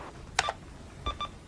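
Telephone answering machine tones: a short burst of bright electronic beeps, then a pause, then two more clear beeps, moderately loud against a quiet hum.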